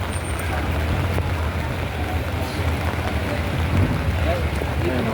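Steady rain falls over an outdoor cattle market in Padre Garcia, Batangas, a dense, even hiss with low rumble filling the whole stretch, with faint voices of people talking underneath.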